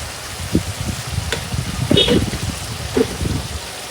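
Masala paste of coriander powder, cumin powder and salt frying in a pan for a rohu fish and pointed gourd curry, giving a soft steady sizzle with a few brief spatula scrapes and clinks, close by.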